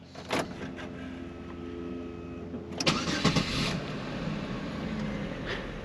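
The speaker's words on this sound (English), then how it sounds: "Now I'm gonna turn it off and I'm gonna try it again." A Chevy Monte Carlo engine with a hard-start fault cranks briefly and catches, then settles into a steady idle, heard up close with no talking.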